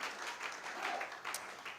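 A church congregation applauds and cheers for a short stretch, a faint, distant wash of clapping with a few voices mixed in.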